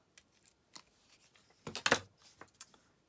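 Scissors snip through card for a paper sails design, a few quiet cuts building to one louder, crisp double snip near the middle, close up with no talking.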